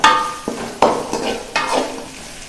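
Food sizzles in a hot pan while a utensil scrapes and stirs it in a few uneven strokes, close and fairly loud.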